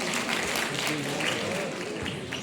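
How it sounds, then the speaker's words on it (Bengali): Steady, dense applause from a large audience at a school board's golden jubilee award ceremony, clapping continuously and evenly for the full stretch with a faint murmur of voices underneath. "একটা জোরে করতালি আবারও"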